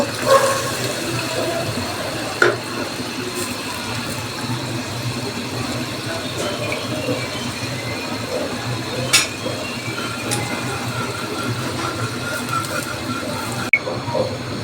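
Soaked tamarind juice strained into a pan for achari eggplant, a steady wet trickling and pouring that runs unbroken for the whole stretch, with a few soft knocks and no voices.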